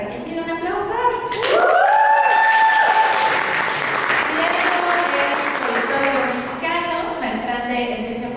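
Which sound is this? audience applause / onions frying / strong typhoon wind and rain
audience applause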